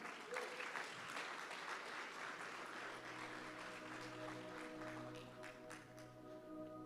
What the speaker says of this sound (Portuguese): Você pode dar um aplauso a Jesus aí?